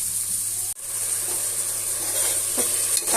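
Tomato paste frying in a pan for a mushroom biryani as it is stirred, a steady close sizzle with a sharp break from a stirring stroke early on and faint scraping toward the end.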